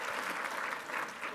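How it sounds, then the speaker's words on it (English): Applause from a lecture audience at BYU, a steady dense clapping that fills the short moment at close range with no voices over it. "Round of applause for Joseph."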